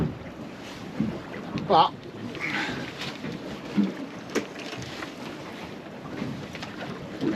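Wind buffets a fishing boat at sea in low, rumbling gusts, with faint creaks and knocks on the hull and a brief spoken word.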